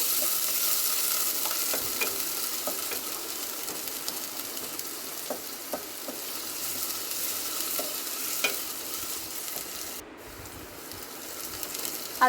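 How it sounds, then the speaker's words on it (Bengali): Chopped onion frying in mustard oil with bay leaf, stirred steadily with a spatula; a continuous soft sizzle runs throughout with frequent light scraping taps against the pan. "পেঁয়াজ কুচিটা দিয়ে আমি ভালো করে নেড়ে চেড়ে হালকা লাল করে নেব"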